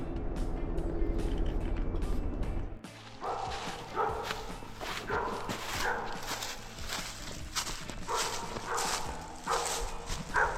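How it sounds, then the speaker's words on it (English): A dog barks off in the distance outdoors, repeating a few times between footsteps and low background rumble. "Got that damn dog barking at me today."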